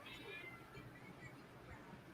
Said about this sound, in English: Somebody's cat's going.